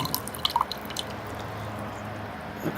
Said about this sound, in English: the remaining little bits of water is still dripping out into the tray